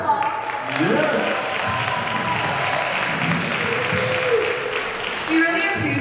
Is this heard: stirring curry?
no